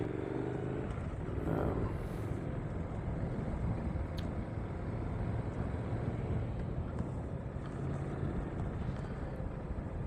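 A motorcycle rolls along at slow speed, its steady low engine rumble mixed with constant wind buffeting across the microphone, with no clear changes in pace throughout.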